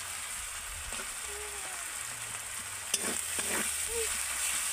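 Onion, garlic and ginger paste frying in oil in a pan, a steady faint sizzle with occasional spoon taps and stirring scrapes, close and quiet.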